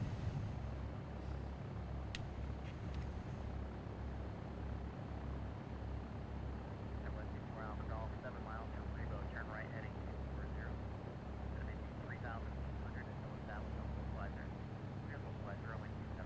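Cessna Skyhawk engine in a flight simulator game, taxiing at an airport: a steady, droning propeller-engine rumble that runs unbroken throughout, while a pilot's voice talks over it in radio calls.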